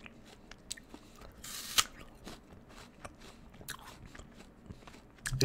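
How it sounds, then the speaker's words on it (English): Crisp, close crunches of someone biting into and chewing a Lucyglo apple, a few sharp crackling bites followed by quieter chewing, with no talk. "It's sort of crunchy. It's a crunchy bite"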